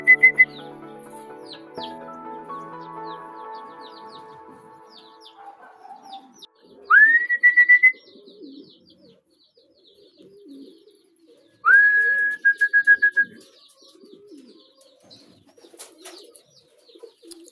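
An aging racing pigeon, a Cavite finisher, in its loft, with a close series of whistled and warbling calls, including two rising tonal notes, separated by quieter pauses and no speech.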